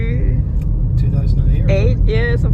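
Steady low road rumble inside a Peugeot 2008 cruising on the motorway, a constant engine and tyre drone under short bits of talking.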